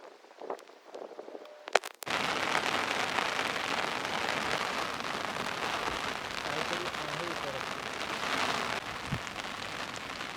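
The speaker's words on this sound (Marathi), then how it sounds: "जबरदस्त पाऊस आला" Heavy night rain pours down on a campsite beside a dam during a fishing trip, a dense, steady close-up hiss that starts abruptly after about two seconds of scattered quieter knocks and continues without a break.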